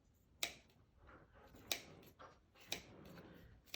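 Scissors snip through thick, tightly wrapped yarn in three sharp, close cuts spaced about a second apart, with soft rustling between them and no talk.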